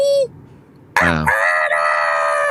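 A person imitates a rooster crowing in one loud, drawn-out cock-a-doodle-doo call, close to the microphone, after a short voiced note and a brief pause.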